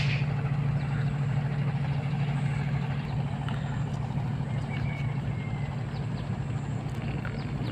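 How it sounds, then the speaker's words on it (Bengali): A motorized wooden boat on the Jamuna river near the Jamuna bridge gives off a steady low engine drone that holds at an even, moderate level from a short distance, with no voices over it. "এই যে পাশে আর একটা নৌকা আসতেছে"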